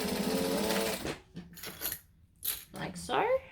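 A sewing machine stitching a back stitch during a sewing tutorial runs in short stop-start bursts of mechanical whirring and clicking, close by.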